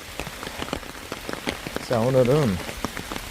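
Rain falls steadily outdoors, with dense close patter and distinct drops striking a surface throughout, while someone briefly speaks Korean over it.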